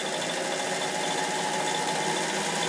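A Bernina 840 sewing machine runs steadily on a running zigzag stitch for mending, a continuous even mechanical whir with a fine rapid rattle, close and unbroken throughout.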